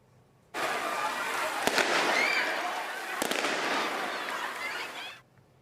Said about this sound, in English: Halton police say some groups of young people set off fireworks on Bronte Road